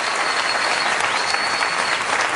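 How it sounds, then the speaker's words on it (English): A studio audience gives the debate candidates a final round of applause: a loud, even wash of clapping that runs unbroken for a couple of seconds, with a faint steady tone behind it. "let's have wait, one final round of applause for the candidates"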